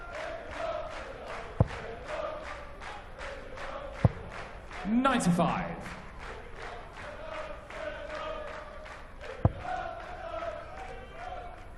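Darts arena crowd at the 2015 European Darts Open sings a rhythmic terrace chant with regular claps, with a few sharp thuds and a burst of cheering midway while a commentator talks over it.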